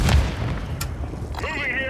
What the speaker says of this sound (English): Frag out! Throw a grenade!